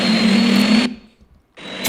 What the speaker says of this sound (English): This one is a flame sound effect.